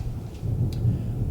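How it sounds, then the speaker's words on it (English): Thunder from a storm rolls low and steady in a short burst, a deep rumble with a faint crackle and hiss of rain, heard alone without voices. "You can hear the thunder and lightning"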